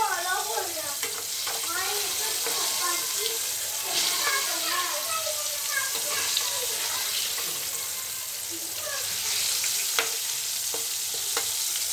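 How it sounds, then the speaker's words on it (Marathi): Pomfret fish fry in oil in a kadhai with a steady, close sizzle and crackle, occasional stirring and scraping, and someone talking throughout over the frying. "अशा प्रकारे छान असे तेलामध्ये मस्त फ्राय होतात आपले पापलेट"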